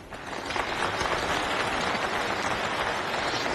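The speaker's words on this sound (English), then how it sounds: "Applause just a little early." A snooker audience breaks into sustained applause, a dense, even wash of clapping that holds at steady volume throughout.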